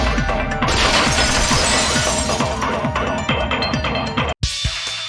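Glass shatters loudly in Danganronpa 2, a bright crashing burst with tinkling fragments spread over a few seconds, then a sudden cut to near silence and a final faint tail.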